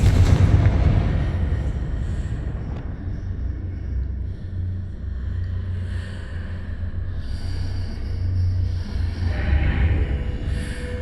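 Confringo fire spells blasting in the game Hogwarts Legacy: a continuous deep, rumbling barrage of booming explosions, loud and dense throughout with no pauses or voices.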